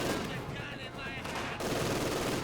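Rapid LMG-42 machine gun bursts from the Company of Heroes 2 strategy game, a dense continuous crackle of gunfire mixed with other battle noise at steady loudness throughout.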